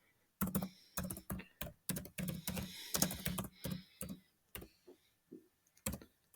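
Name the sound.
typing on a computer keyboard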